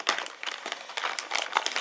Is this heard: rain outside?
no